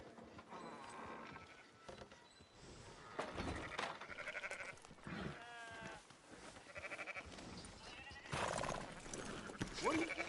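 Sheep bleat in the open world of Red Dead Redemption 2, several wavering calls rising over a busy ambient mix of game animals, hooves and outdoor background, moderately loud and close.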